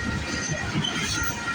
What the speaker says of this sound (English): You don't get this train every day.